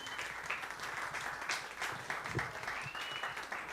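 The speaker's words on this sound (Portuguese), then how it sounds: "se vocês puderem receber ele com a salva de palmas" A church congregation applauds a guest preacher invited up to the front, a steady, fairly faint patter of many hands clapping together throughout the short stretch.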